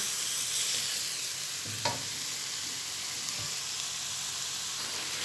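Mixed vegetables stir-fry in a pan with a constant loud sizzle, broken by a single short clink of a utensil.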